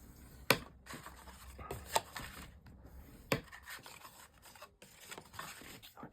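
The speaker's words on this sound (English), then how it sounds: "I'm just going to burnish all those fold lines like so" A burnishing tool rubs along the fold lines of a scored and folded card, giving a few sharp scraping strokes and soft rasping rubs close by, with no talking.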